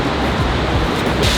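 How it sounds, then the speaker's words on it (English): Havasu Falls, a waterfall in Havasupai canyon, roars as a steady, loud wash of rushing water with no pauses and no voices. "And now I can finally go to Havasu Falls."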